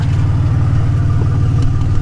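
A Nissan Z31 300ZX Turbo running with no exhaust gives a loud, close, steady low engine drone with a faint higher turbo whine above it. The sound holds constant with no talking.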